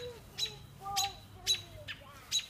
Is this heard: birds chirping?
yes